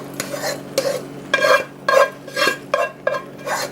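Saffron-tinted rice for arroz con pollo is folded and stirred into a pot, giving about eight rhythmic scraping, swishing strokes close by with brief pauses between them and no talking.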